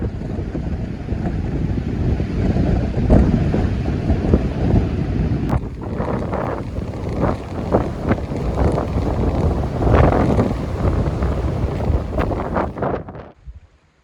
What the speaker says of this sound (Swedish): Det var den värsta stormen vi upplevt under hela turen. Det blåste så mycket att vi var tvungna att avbryta och stanna på Grytnäs.